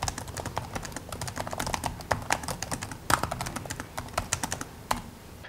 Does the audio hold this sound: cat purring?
no